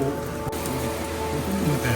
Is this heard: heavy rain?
yes